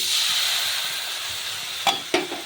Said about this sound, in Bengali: এবার এটা আমি ভালোভাবে কষিয়ে নেবো